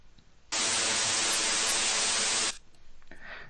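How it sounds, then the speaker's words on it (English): Synthesized white noise generated in code, a steady, even hiss that switches on abruptly, holds for about two seconds at constant level and cuts off sharply, with quiet room sound before and after. "We have some random waves called white noise."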